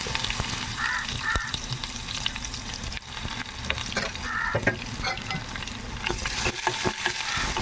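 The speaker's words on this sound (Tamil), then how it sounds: "இதுக்கப்புறம் எடுத்து வச்ச கருவேப்பிலை தட்டி வச்ச பூண்டு" Curry leaves and crushed garlic go into hot oil with mustard seeds, giving a loud, continuous close sizzle with scattered pops and stirring clicks, and a faint crow calls in the background.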